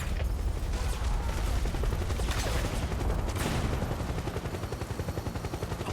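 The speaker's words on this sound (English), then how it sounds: "PMC airstrike." A PMC airstrike in the Metal Gear Solid 4 video game pounds away in dense, continuous rapid gunfire and blasts. The barrage is loud and sustained, with rattling bursts throughout and no voices.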